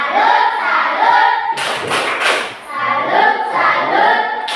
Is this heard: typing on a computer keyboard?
no